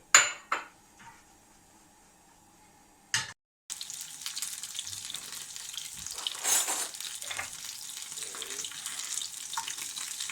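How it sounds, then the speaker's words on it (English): A few sharp clatters of a pan, then a steady hiss of asparagus tips sizzling in hot oil over medium-high heat that continues to the end. "the tips of the asparagus are start frying"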